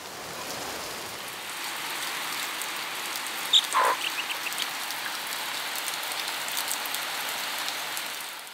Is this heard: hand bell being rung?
no